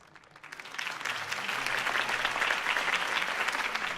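Crowd applause after Harvey Dent's campaign speech in Batman: The Telltale Series, rising quickly from quiet to a full, sustained roar of clapping from a large audience that holds steady to the end.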